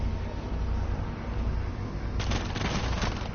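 SMG-12 submachine gun fire in a Rainbow Six Siege tournament finals match: a steady low rumble of background noise, then a rapid, dense burst of automatic shots from about two seconds in, with no talk.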